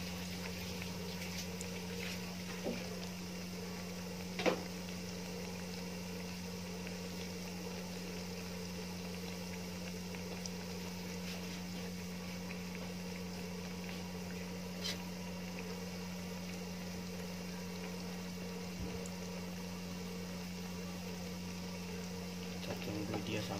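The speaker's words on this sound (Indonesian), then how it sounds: "Dan ini kita goreng sampai kecoklat-coklatan nantinya ya." Chocolate cheese bread rolls frying in hot oil, a steady low sizzle and bubbling that runs unbroken at an even level with a few faint clicks.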